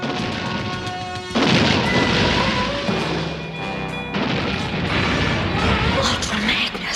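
A loud cartoon explosion tears through a building packed with explosives and photon grenades in the animated Transformers series, a sudden boom that swells into a long roaring, crashing rumble.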